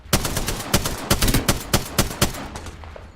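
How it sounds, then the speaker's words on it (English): Rapid SMG gunfire in the Apex Legends video game, a burst of a dozen or so sharp, evenly spaced shots, close and loud with no talking. "Hitting him with an SMG."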